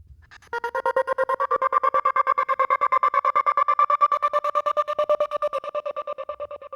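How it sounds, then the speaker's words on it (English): A sustained trance vocal tone chopped into rapid, evenly spaced 16th-note gated pulses, a fast rhythmic stutter lasting several seconds, loud and close with no talking. "in order to get that really quick gated sound"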